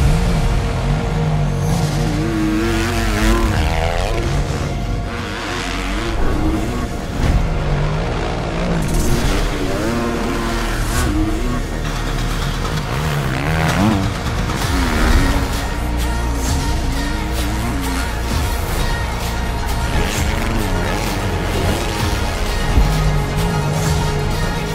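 A Triumph 250cc motocross bike roars continuously while riding, its engine revving up and down in loud, close surges with rising and falling pitch throughout.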